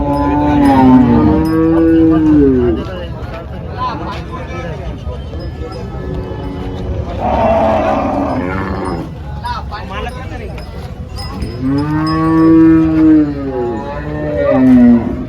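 Deep, drawn-out moos from a large Holstein Friesian cow rise and fall at the start and end, with people talking in between amid a busy outdoor cattle market crowd.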